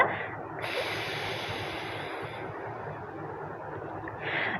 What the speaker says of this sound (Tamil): இப்போ இடது மூக்க துறந்து அதன் மூலமாக மூச்சை வெளிவிடுங்க